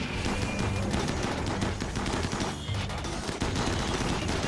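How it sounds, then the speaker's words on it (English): Dense, sustained gunfire in a Rimworld battle, raiders shooting at base walls: rapid overlapping shots and bursts rattling continuously at steady loudness, with no talk over it. "So now they're still going to shoot at our walls."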